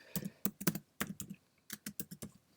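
Rapid taps on an Android phone's touchscreen keyboard while a search is typed, a dozen or so quick, close clicks in uneven bursts with short pauses and no voice.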